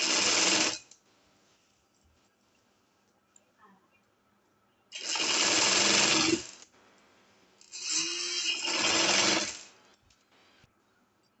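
A sewing machine stitches a shirt sleeve onto the shoulder and side seam in three separate runs of steady, close-up whirring. Between the runs there are quiet pauses with faint handling clicks.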